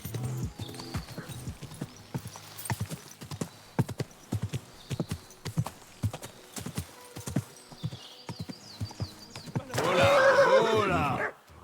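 Horse hooves clip-clop in a steady, close rhythm in Kingdom Come: Deliverance II, ending with a loud whinny; faint game ambience lies underneath.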